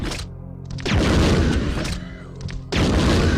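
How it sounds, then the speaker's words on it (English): A grenade blows up in the video game Resident Evil 2, with heavy booming blasts and rumbling gunfire in loud, dense layers across the moment. "We'll see with the grenade."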